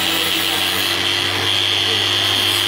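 Hand grinder sanding and mirror-polishing a knife blade with fine 3000-grit abrasive, a loud continuous high whine holding steady throughout with no pauses or talk.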